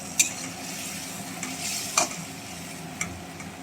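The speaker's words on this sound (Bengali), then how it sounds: "দেখলাম ভালো করে কষাবো সুন্দর করে" Fish being sautéed and stirred in a frying pan, with a steady low sizzle throughout. Three or four sharp clinks of a spoon against the pan sound close by, and no one speaks.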